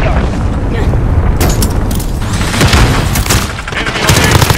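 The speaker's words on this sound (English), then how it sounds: "Allied cruise missile on the way." Explosions and booms from a cruise missile strike in a first-person shooter video game, dense and loud with scattered gunfire and in-game voice callouts mixed throughout.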